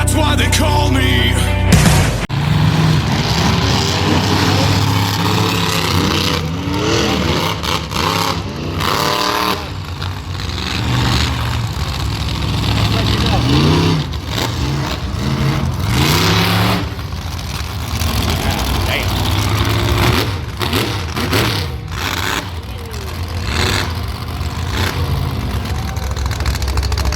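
A monster truck engine revs hard at a Nitro Tour show in Casa Grande, roaring loud and close in rising and falling surges throughout with a heavy low rumble.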